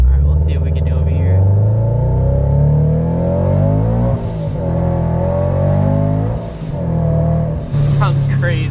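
Supercharged Scion FR-S with 150,000 miles pulls hard in first gear, engine and supercharger whine climbing loudly in repeated sweeping rises between quick shifts, heard from inside the car.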